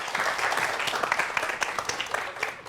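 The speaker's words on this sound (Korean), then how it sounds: "오늘의 주인공 두 분을 박수로 모시겠습니다" Studio audience at a television science talk show applauding to welcome two guests, a dense, even burst of clapping throughout the short stretch.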